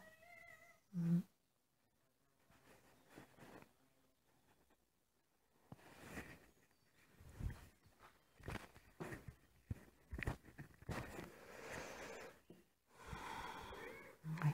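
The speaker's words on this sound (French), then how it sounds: "C'est le chat qui arrive." A cat meows a couple of times amid soft shuffling and rustling noises nearby, with quiet stretches between.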